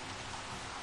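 Rain falling in Jurassic World Evolution: a brief, steady hiss of dense rainfall, even and continuous, without distinct drops or other sounds.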